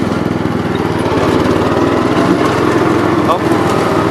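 A Pro 12 power broom clears snow with its small engine running steadily and loud up close, a continuous buzzing drone with slight variations, while someone talks over it.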